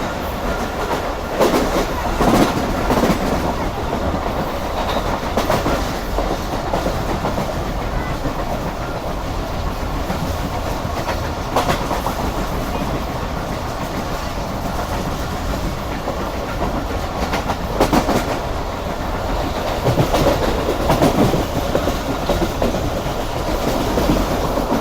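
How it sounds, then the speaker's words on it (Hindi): The Rehman Baba Express rolls through Jungshahi railway station without stopping, heard from on board as a steady rumble with rhythmic clickety-clack of wheels and occasional louder rattles throughout. "ये ट्रेन हमारी इस वक्त स्किप कर रही है जंगशाही रेलवे स्टेशन को।"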